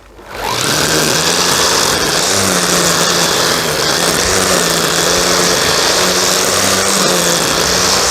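A high, steady motorized whine of a Vitals EZT 144vrs electric string trimmer cutting grass runs continuously and loud after a brief quiet start, with no voices.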